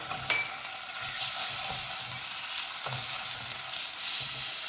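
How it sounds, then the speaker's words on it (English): Ginger garlic paste and finely chopped green chilies sizzle hard in hot oil, a dense, steady hiss with a few sharp spatters and faint stirring scrapes, loud and close with no talking. "Then I put the ginger garlic paste and finely chopped green chilies into the oil"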